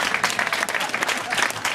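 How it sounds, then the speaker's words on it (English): Applause during a mayor's speech in Philadelphia: a brief, loud burst of dense clapping from a crowd, filling the whole moment with no pause. "It's time for a round of applause."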